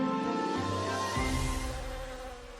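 Honeybees buzzing around a hive on a pollination journey: a dense, continuous insect drone with shifting pitch, loud and close, filling the whole stretch with no talking.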